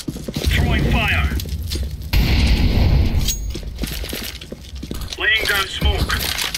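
An incendiary grenade thrown and bursting in Counter-Strike: Global Offensive, a loud breaking crash followed by a second of hissing flame amid clicks and gunfire, with voices talking before and after.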